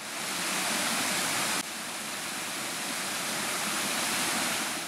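Steady, dense rush of falling water, loud and continuous throughout, standing near Tirta Rimba waterfall in Baubau on Buton Island, Indonesia.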